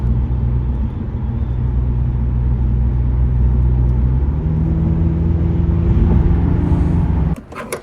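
Steady low engine and road drone inside an Audi S3 running an IE Stage 2 high-pressure fuel pump and E30 tune, cruising across town; the hum holds even and loud, then cuts off abruptly near the end.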